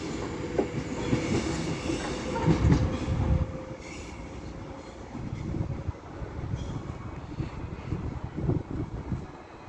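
Class 390 Pendolino 390039 running through Stoke-on-Trent station on the West Coast Main Line, a steady rumble of wheels and traction close by, with faint rail squeal and clickety-clack over roughly ten seconds.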